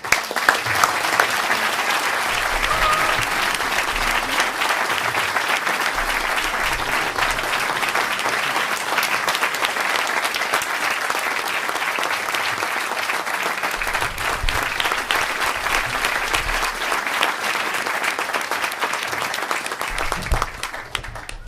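Sustained applause from an audience at a family gathering award ceremony, honoring award recipients, steady and dense clapping throughout with no pauses.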